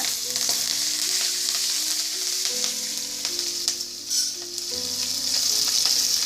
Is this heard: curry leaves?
yes